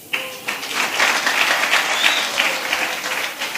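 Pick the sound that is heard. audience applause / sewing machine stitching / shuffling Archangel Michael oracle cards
audience applause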